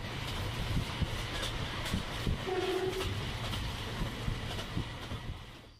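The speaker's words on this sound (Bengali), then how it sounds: "ঝকঝক শব্দে ট্রেন ছুটে চলল" A train rumbles and clatters steadily along the tracks, a continuous loud, close ride with faint rhythmic knocks throughout.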